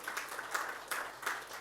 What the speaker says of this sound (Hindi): एक बार जोरदार तालियां सभी ऑर्गेनाइजर्स